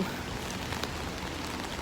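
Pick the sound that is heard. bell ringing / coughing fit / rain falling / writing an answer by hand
rain falling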